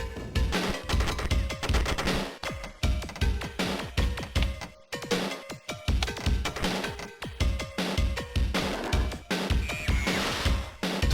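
Rapid gunfire from the 1991 MS-DOS game Duke Nukum: a steady run of sharp, loud shots that repeats almost without pause, with brief gaps and a crash-like burst near the end.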